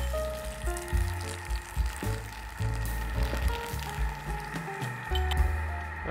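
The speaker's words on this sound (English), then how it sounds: "now we're going to start frying off the sage, getting it crispy as well." Sage leaves frying in a pan while making butternut squash risotto, a steady sizzle with soft squishy crackles and some clattering, continuous and close.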